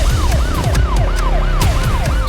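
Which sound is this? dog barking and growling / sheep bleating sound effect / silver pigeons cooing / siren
siren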